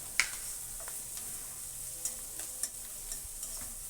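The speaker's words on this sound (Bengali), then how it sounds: "এখন এটাকে সুন্দর করে ভেজে ফেলবো।" Shrimp fries with cabbage, beans and a little turmeric in a pan, giving a faint, steady sizzle with a few light clicks from stirring.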